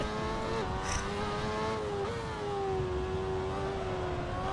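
A race car engine in the sim game Assetto Corsa, set up with extra downforce, drones steadily at high revs with slight pitch dips as the gears shift, loud and continuous with no talk over it.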